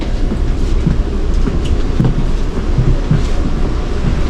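Inside a moving train downtown, a constant loud rumble of wheels on the rails fills the space, with faint rhythmic clacks and no talking.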